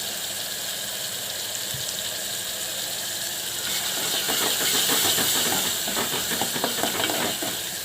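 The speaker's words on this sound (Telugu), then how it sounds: "ఇది కూడా బాగా వేపుకుందాం ఆయిల్లో. టమాటా ముక్కలు వేస్తున్నాయి." Tomato pieces sizzle in hot oil in a pan for chicken gravy, a steady loud hiss that swells and crackles more busily partway through, with no talking.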